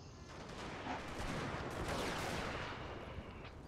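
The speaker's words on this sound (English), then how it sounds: "We're getting a few pot shots out of this as we run away." Musket gunfire crackles in a dense, continuous fusillade from troops in the Napoleon Total War video game, loud rolling volleys with no talking.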